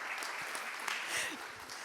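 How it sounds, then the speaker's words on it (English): A round of applause from the audience at a digital public infrastructure milestone event, dense steady clapping filling the room, with faint voices under it. "let's have a round of applause."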